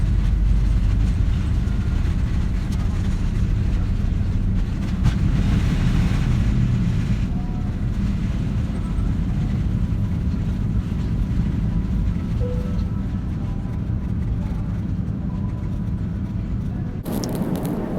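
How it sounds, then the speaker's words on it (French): Steady, loud cabin roar aboard an Air France Airbus A380 in flight, a continuous low broadband rumble and hiss with faint background sounds and a brief sharper noise near the end. "On est à bord de l'Airbus 380."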